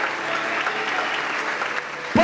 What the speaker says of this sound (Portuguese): tem uma manifestação com aplausos e brados de vitória